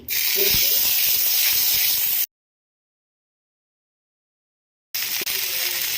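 Mushroom pieces hit hot oil with a loud, steady spray-like hiss for about two seconds. The sizzle then cuts to silence and comes back briefly near the end.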